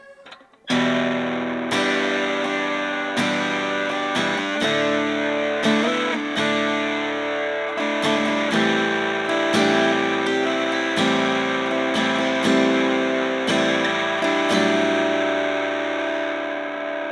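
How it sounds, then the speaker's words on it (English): A Taylor T5C2 acoustic-electric guitar played through a heavily distorted amp plays strummed chords and ringing notes for about sixteen seconds, loud and saturated with a slight echoing effect, no voices. "the acoustic guitar through the most distortion amp I have pre-selected."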